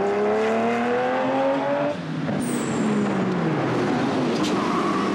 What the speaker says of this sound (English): A shot of number 47, David Lees in his Porsche 911 RS.